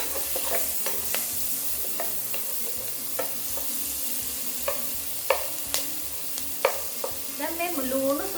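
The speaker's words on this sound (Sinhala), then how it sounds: "දැන් මේ ලුණු සුදු ලුණු රන්වන් පාට වෙනකම් අපි පොඩ්ඩක් මේක මේ විදිහට තියාගමු" Garlic frying until golden for kadala koththu sizzles steadily in the pan, with frequent light scrapes and taps of a spoon stirring throughout.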